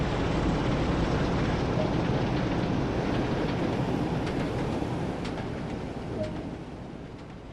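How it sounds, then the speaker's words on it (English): Train pulling into Dewsbury station on the North Transpennine line in Train Sim World 2, a steady loud rumble of wheels and carriages with faint rail clicks, slowly easing off as it comes in to stop. "So I wait for the train to come in and stop."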